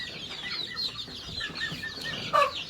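Several of about a hundred chickens cluck and chatter in a steady, moderately close flurry, with one sharper squawk standing out near the end.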